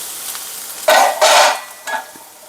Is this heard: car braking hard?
no